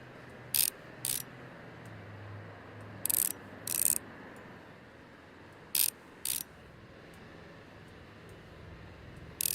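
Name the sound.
screwing the screws back in while reassembling a device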